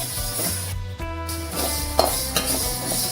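Fenugreek seeds dry roasting in a pan while being stirred, a soft close sizzle and rustle with scraping strokes, over a low background hum.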